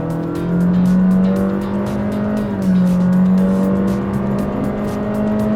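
A Honda WR-V car accelerates hard from inside the cabin, its engine droning loudly and rising in pitch, dipping briefly at a shift before climbing again.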